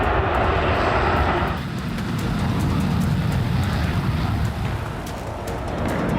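Fighter jet engines roar in a loud, continuous rush near a wartime airstrike, swelling at first, then dipping slightly before holding steady.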